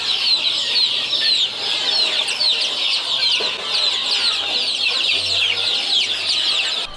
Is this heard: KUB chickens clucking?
yes